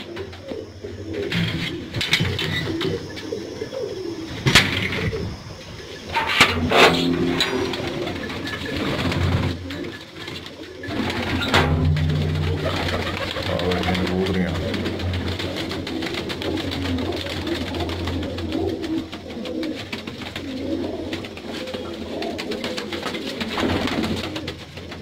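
Three pigeons coo repeatedly, their low, throaty calls rising and falling close by and continuing almost without pause for the whole stretch.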